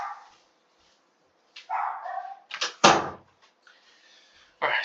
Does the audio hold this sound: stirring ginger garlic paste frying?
no